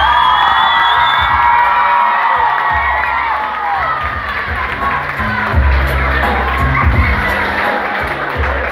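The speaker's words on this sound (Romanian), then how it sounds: "Hai acum aplaudați și speră să fii votat." Crowd cheering and whooping at a Romanian talent show performance, a loud continuous roar with shouts over a thumping music beat throughout.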